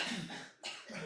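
One person gives two sharp coughs close to the mic, separated by a brief pause, with nothing else around them.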